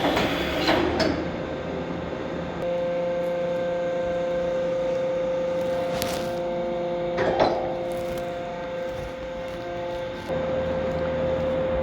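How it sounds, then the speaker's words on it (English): A Mazak Nexus 410A-II CNC milling machine performs an automatic tool change. A steady mechanical hum carries sustained whining tones, punctuated by a few sharp clunks and clicks midway. "Let's do another tool change"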